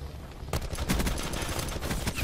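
Automatic gunfire in Call of Duty Black Ops 4 on the Safeguard mode breaks out abruptly after a brief quiet moment, a loud, dense rattle of rapid shots continuing to the end.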